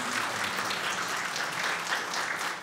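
An audience at a Hungarian poetry evening applauding, a dense, steady patter of clapping that fills the hall evenly with no voices over it.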